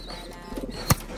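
A pet pigeon, wild-caught and being kept, gives a single sharp, close thump, a peck or wing flap, after faint shuffling and soft cooing-like murmurs in an otherwise quiet space.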